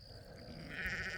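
A wounded sheep lets out a single wavering bleat at farm distance, rising in the latter half over a steady background hum.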